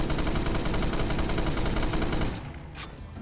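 An M60 heavy machine gun in the game Phantom Forces fires a loud, continuous burst of rapid shots for a little over two seconds, then cuts off, leaving a quieter tail.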